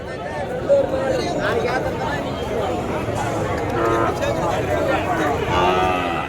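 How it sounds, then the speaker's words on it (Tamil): Cattle moo repeatedly at a busy native cattle market in Madrappalli, their calls rising over a steady hubbub of crowd chatter while someone talks close by. "எவ்வளோ மாடு நிற்கிது இன்னும் சேல்ஸ் இல்லாமல் அப்படியே இன்னும் நிற்கிது"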